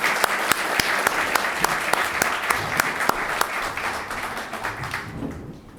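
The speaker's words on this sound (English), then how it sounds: "Please give them a round of applause." An audience at a Marine Corps benefit dinner celebrating the Corps' 248th birthday gives a round of applause, with steady clapping and a few sharp, distinct claps standing out, gradually fading toward the end.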